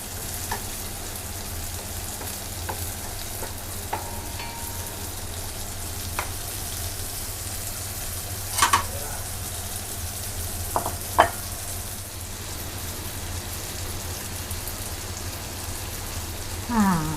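Yellow tofu frying in a pan for a vegetarian stir-fry with basil and shiitake mushrooms, a steady close crackling sizzle throughout with a few light clinks of a utensil stirring.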